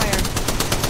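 Rapid automatic gunfire in the mobile battle royale game Apex Legends Mobile, a loud burst of about eight evenly spaced shots fired in quick succession.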